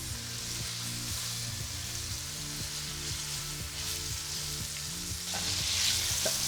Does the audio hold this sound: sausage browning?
yes